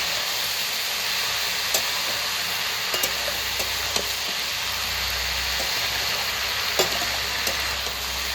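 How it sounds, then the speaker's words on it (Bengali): Chopped vegetables for a wedding-style Bengali chyachra fry in a hot pan with a steady, loud hiss. Faint clicks of stirring recur throughout. "সবজিগুলোকে এবার আমি ভালো করে ভাজা ভাজা করে নেব।"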